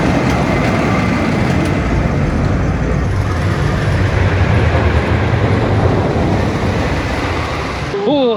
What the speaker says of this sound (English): we've just had another great ride on the Wickerman